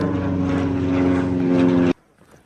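Propeller airplane passing overhead during a cycling trip in the Landes, a loud steady droning hum with a tonal engine whine that cuts off abruptly near the end, no talk.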